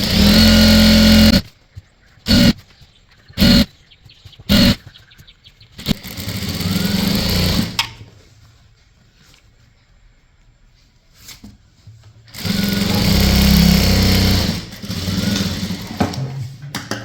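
Electric sewing machine stitching a fall onto the hem of a saree, running in several short bursts and then two longer continuous runs, each with a steady motor whir and a rapid needle rhythm, close and loud.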